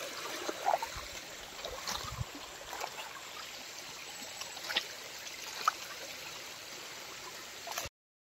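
Rainwater running through a village flows in a steady, soft trickling wash with occasional faint knocks and splashes, moderately distant and low in level, no speech.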